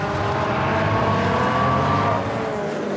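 A Honda supercar's engine roars steadily past on the Zandvoort circuit, a loud sustained drone that shifts pitch slightly and eases off toward the end.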